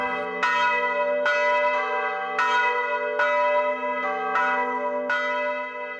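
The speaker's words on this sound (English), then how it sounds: "the bell is still ringing 223 years after the making of it" A Paccard church bell cast 223 years ago rings out in loud, regular strikes about a second apart, each stroke ringing on in a long, rich hum that carries into the next.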